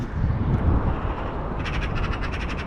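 Crows caw outdoors, a quick series of rasping calls in the later half, set against a rumbling background of wind or traffic noise, moderately loud and with no speech.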